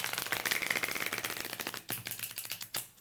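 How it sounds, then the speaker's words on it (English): A tarot card deck being riffle shuffled, a rapid dense fluttering patter of cards for about two seconds, followed by a few sharp taps and clicks, close and fairly quiet. "So it riffle shuffles"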